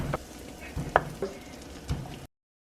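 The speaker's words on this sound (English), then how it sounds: "we're rolling our corn around in this butter" Corn cobs are rolled around in melted butter in a pan, a low sizzle punctuated by a few distinct knocks and scrapes as the cobs turn, then silence.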